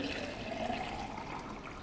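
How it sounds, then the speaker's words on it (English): Distilled water is poured vigorously into a container, making a steady, fairly quiet splashing trickle that runs continuously for about two seconds with no voices. "So what I do is I take that water and I pour it in"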